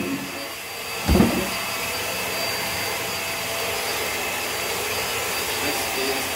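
A Hoover React Powered Reach vacuum cleaner runs with a steady, loud whooshing roar, and a brief bump of the head sounds early on.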